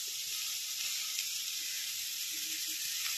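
Curry leaves dropped into hot oil for a spicy eggplant and potato curry give a steady, fairly quiet crackling sizzle that runs unbroken throughout.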